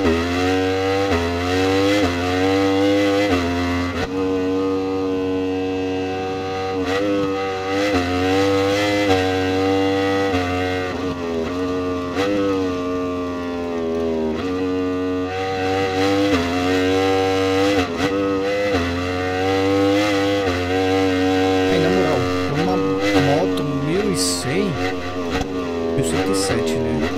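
An Aprilia Tuono V4 1100 Factory motorcycle in the racing game Ride 4 howls under sustained throttle, its engine note climbing and dropping through gear shifts for nearly half a minute, loud and continuous.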